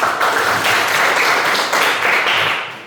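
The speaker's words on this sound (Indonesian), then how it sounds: "tepuk tangan untuk semua" A classroom of students claps their hands together, a dense, steady burst of applause lasting about three seconds before fading slightly at the end.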